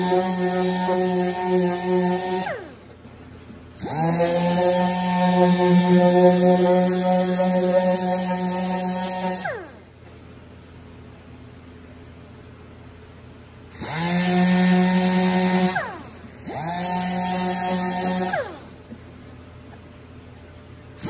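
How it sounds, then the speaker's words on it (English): Sanding ukulele binding with sandpaper up to 220 grit gives a loud, whining, motor-like drone in four separate bursts of a few seconds each, with quiet gaps between them and no talk. "let's go ahead and sand this all the way up to 220 grit sandpaper"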